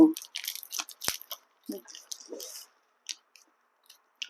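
Someone chewing Thai kluay kuan, an old-style banana candy cooked with coconut milk, producing soft, sticky, wet squishing and smacking bites up close, with brief pauses between chews.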